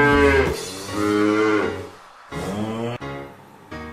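A cow gives a few drawn-out, deep moos, loud and close, separated by short pauses.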